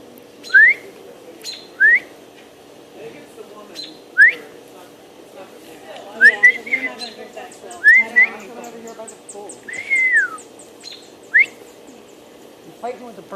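A dive-bombing bird guarding its nest repeats sharp, rising whistled calls about every second or two, loud and close, with faint higher chirps and people talking in the background.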